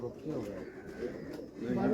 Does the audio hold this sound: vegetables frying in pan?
no